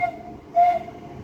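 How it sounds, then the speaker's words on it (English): A train driver sounds a short depot whistle on the horn of a slowing passenger train, one brief tonal blast heard at moderate distance over low rail rumble, with no speech. "Thank you for that depot whistle from the driver"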